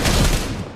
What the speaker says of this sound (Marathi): तर बघता मला फायरिंगचा साऊंड येते